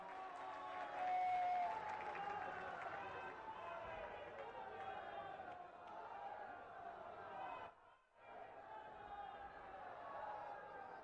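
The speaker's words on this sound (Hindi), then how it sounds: "सभी लोग खड़े होकर जोरदार तालियों से उनका स्वागत करें, अभिनंदन करें" A large audience stands and applauds to welcome India's Prime Minister at an event in Varanasi, a loud sustained clapping with cheers and tones mixed in, briefly cut out near the end.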